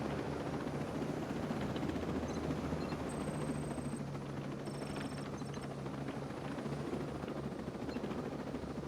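A video game helicopter flies in and sets down, its rotor drone a steady, unbroken whir throughout with no voices.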